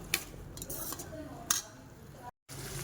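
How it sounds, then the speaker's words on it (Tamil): A spoon stirs chicken with turmeric in a pot for a pepper chicken fry, giving two sharp metallic clinks and some soft scraping, all quiet and close. "கிண்டி விட்டு நம்ம ஒரு 10 நிமிஷத்துக்கு மூடி வைக்கலாம்."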